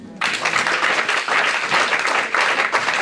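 Steady, dense applause fills a church as a congregation claps together, starting abruptly and continuing loud and even throughout.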